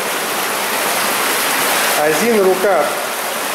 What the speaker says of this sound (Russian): Очевидно, это как раз река Сетунькая. Он идет в закрытом коробе, в желобе закрытым бетоном